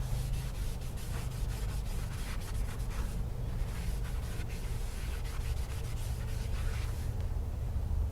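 A rag rubs and wipes down brake parts during a disc brake job, a steady, close scrubbing rasp that continues without pause.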